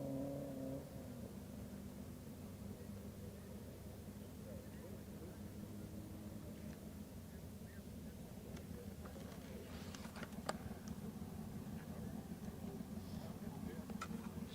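A land speed racing car pulls away off a push truck on the Bonneville salt flats, a steady, droning engine roar that holds for the whole stretch, with voices faintly underneath.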